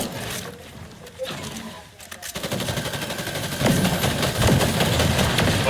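Rapid weapon fire in a Fortnite Battle Royale match, a laser weapon shooting in sustained bursts that grow louder and denser over several seconds, layered with game effects and a commentator talking throughout.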